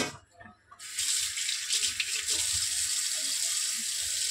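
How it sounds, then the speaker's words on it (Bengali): Dishes being scrubbed in a home kitchen sink under a running tap. After a brief quiet clatter, the water comes on and flows steadily and close, with small knocks of utensils under the stream. "তো চলো এই বাসন কটা মেজে নিই।"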